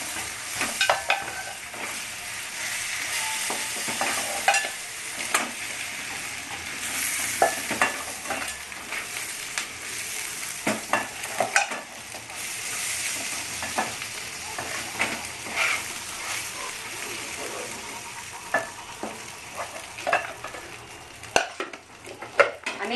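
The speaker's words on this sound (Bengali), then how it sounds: "মাছটা আমি ভালো করে ভেজে নেব।" Fish, prawns for a Bengali drumstick and prawn curry, frying in hot oil in a pan while being stirred: a steady bright sizzle broken by frequent scraping and clinking of a spatula against the pan, with no talk.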